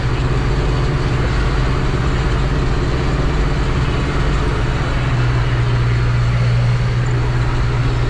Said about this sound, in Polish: kosiarka głośno chodzi. Ciągnik też na obrotach.